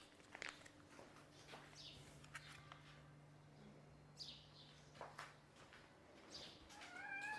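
A cat meows a few times at a moderate distance, with soft bird chirps and a steady low hum in the background.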